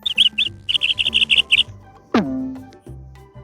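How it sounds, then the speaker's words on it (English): A sparrow chirps in a rapid run of bright, close, high-pitched tweets, three quick notes, a pause, then about eight more, followed by a short swooping tone and a low hum. "Sparrow, sparrow."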